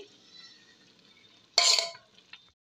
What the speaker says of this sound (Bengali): এভাবে নাড়াচাড়া করে দিতে হবে